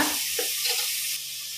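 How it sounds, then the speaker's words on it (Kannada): Onions frying in a hot pan as the base for a chicken gravy, a steady soft sizzle that stays close and fairly quiet throughout, with a brief stir partway through and no talking. "ಈರುಳ್ಳಿ ಒಳ್ಳೆ ಫ್ರೈ ಆಗಬೇಕು"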